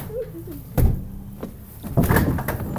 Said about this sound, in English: Can't even lock the door. I'll try to lock it.